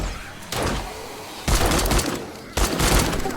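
Three separate loud bursts of gunfire from cops in 7 Days to Die crack out about a second apart, each followed by a rough, noisy tail.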